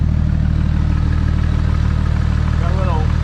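Steady idling rumble of a repaired race Jeep engine, close and constant with an even mechanical chug throughout, and a voice speaking over it near the end.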